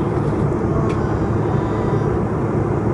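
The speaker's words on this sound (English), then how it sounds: "so I'm at the airport." Steady, loud broadband roar of an aircraft engine at an airport, a constant droning rumble with no breaks and no voices.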